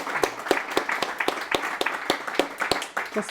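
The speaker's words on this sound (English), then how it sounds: "let's give Adrian a big round of applause" A small audience at a founder conversation event gives a short round of applause, individual claps clearly separated in a loose, uneven rhythm, close and moderately loud.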